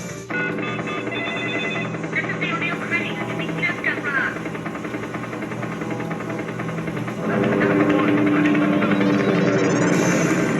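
A continuous mechanical whirring, buzzing drone of the helicopter effect on a Rescue 911 pinball machine, steady and loud, rising in intensity near the end, with electronic chimes layered in.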